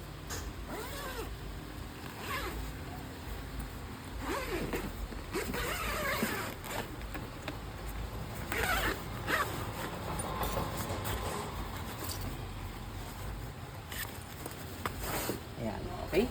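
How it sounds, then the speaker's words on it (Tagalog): The zipper on a Katoji crib and playpen is opened in repeated short, raspy pulls close by, with a person talking throughout and a few quiet thumps of the fabric frame. "tatanggalin nyo lang po siya dito sa pinaka-zipper niya"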